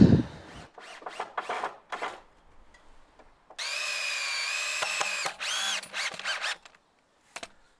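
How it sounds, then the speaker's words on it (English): A power drill drives deck screws into timber frames for a workshop base, giving a series of short whirring bursts followed by one longer sustained run, close and fairly loud, with pauses between screws. "And I'm just going to get this all put together with some deck screws."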